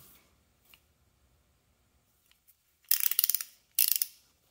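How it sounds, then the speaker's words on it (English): A Pennons 1/2 inch drive ratchet gives two close bursts of rapid clicking, each under a second long, after a near-silent pause with a few faint handling taps. "ratchet"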